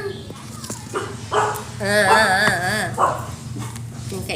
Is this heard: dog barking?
yes